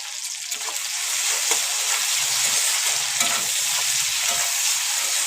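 Green chillies, tomato and onion frying together in a pan, giving a steady, close, continuous sizzle with occasional stirring scrapes and no voices.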